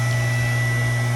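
A 5 ton electric log splitter runs with a steady, loud electric motor hum and constant drone, no voices over it.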